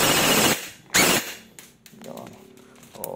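An EC-603BK airsoft gun fires two sharp, close bursts in quick succession, followed by mechanical clicks and someone speaking briefly.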